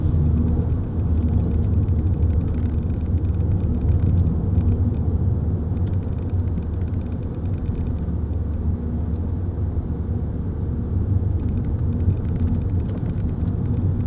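A 2008 Vauxhall Zafira 1.9 CDTi 16v SRi diesel on the move, a steady low rumble of engine and road noise heard from inside the cabin, continuous and fairly loud with no talk.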